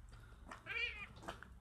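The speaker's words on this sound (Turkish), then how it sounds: "eski bir un değirmeninin su oluğuna düşen yavru kedi" A rescued kitten, pulled from the water channel of an old flour mill, gives a short, faint meow over low background noise.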